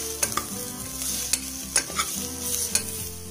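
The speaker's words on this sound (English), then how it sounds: "I'm now going to mix this really well with the onions." Coriander and cumin powder stirred into frying onions in a pan for an Indian-style beef curry: a steady close sizzle with several sharp scrapes and knocks of the spoon against the pan, no voices.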